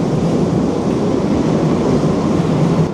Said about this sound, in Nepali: ट्रेन कुद्यो छ ट्रेन